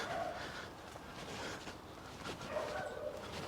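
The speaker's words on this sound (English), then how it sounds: "Those dogs don't sound too happy this morning." Distant dogs bark and whimper intermittently from kennels, faint and continuous against outdoor ambience, with no one speaking.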